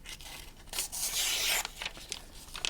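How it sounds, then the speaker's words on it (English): Tactical knife blade drawn several times across a sheet of paper, producing rasping, tearing slices in uneven strokes, close and fairly quiet, with a longer sustained cut in the middle. "We'll just run it a few times across the paper."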